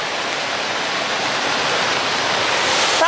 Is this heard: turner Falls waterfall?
yes